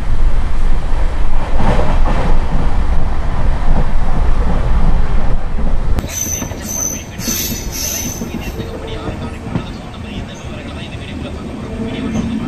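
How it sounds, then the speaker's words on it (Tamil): Pamban Express passenger train runs along the track at night, a loud continuous rumble of wheels and carriages with high squealing as it slows, heard from on board. "அறந்தாங்கி ரயில்வே ஸ்டேஷனுக்குள்ளே நம்ம ட்ரெயின் என்ட்ரு ஆகுதுங்க."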